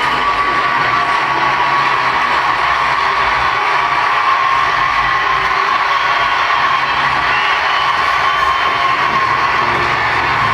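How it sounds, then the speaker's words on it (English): A large crowd cheers and roars wildly without letup, a dense, loud wall of shouting and whooping that holds steady throughout. "The crowd is going nuts."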